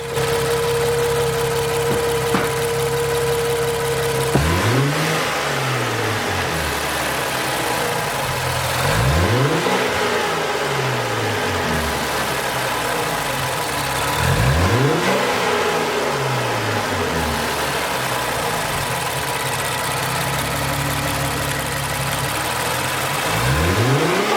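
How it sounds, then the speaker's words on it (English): An Infiniti 3.0t engine idles, then revs up several times in repeated rising and falling surges, loud and close, with no talking. "I'm gonna go ahead and give it a couple revs here"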